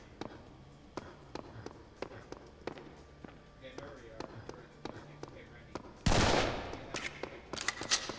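A pistol firing in the Serious Sam 3 video game, a run of sharp evenly spaced shots over game background, followed by a loud burst of noise near the end.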